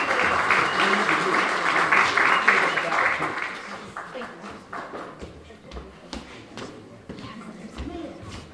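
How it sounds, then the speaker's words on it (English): Applause from a conference audience at a gun and gang violence event, a broad wash of clapping for the speakers that is strongest over the first three seconds and then thins to scattered claps, with faint voices beneath. "let's give them a round of applause as they come"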